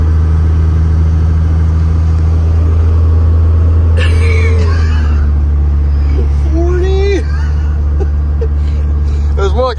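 A clean first-generation 12V Cummins diesel truck accelerates on a 0-to-60 run in cool weather, its engine a loud, steady low drone heard from inside the cab, with speech and brief squeaks rising over it midway.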